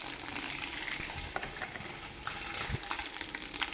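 Dried chilli, cinnamon, fenugreek, mustard seed and bay leaf frying in hot oil, a soft close sizzle with scattered small pops and crackles of spluttering seeds, fairly quiet and steady.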